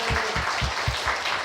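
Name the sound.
applause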